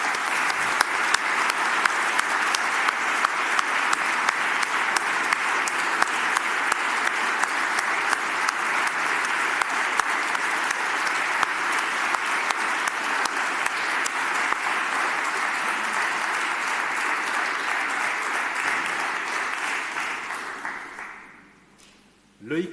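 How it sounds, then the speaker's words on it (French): Warm, sustained applause from an assembly at a livestock breeders' federation gathering in honour of Loïc, a steady thick wash of clapping for about twenty seconds before fading out; a voice briefly intrudes at the very end. "je vous demande à toutes et à tous d'applaudir très chaleureusement Loïc"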